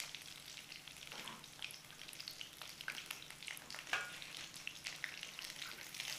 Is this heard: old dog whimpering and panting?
no